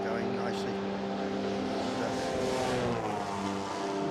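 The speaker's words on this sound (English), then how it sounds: "BMW going nicely." BMW historic race car passing at speed during a Le Mans Classic 2022 race, its steady engine drone blending with other racing engines and crowd ambience, loud and continuous under commentator talk.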